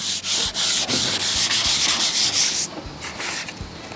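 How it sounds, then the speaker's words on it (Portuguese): Wood being sanded by hand while building a 4x12 bass speaker cabinet, a loud, steady run of rhythmic abrasive strokes that eases slightly toward the end, with no voices. "para o vídeo não ficar muito longo, eu vou adiantar esse lixamento aqui"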